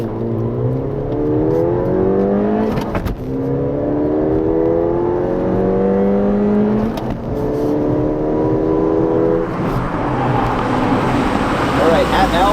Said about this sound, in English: 0 to 60 in the Ford Fiesta ST, 200 horsepower, little 4-cylinder turbocharged engine